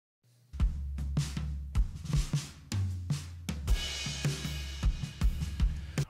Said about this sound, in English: Just the parallel compression on the drums.